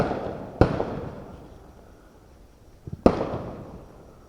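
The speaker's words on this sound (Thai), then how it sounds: "ประทัดร้อยนัด มันจะแตกหรือเปล่า" Firecrackers tied to a released sky lantern at an end-of-Buddhist-Lent festival go off as two sharp, distant bangs a few seconds apart, each followed by a long fading echo.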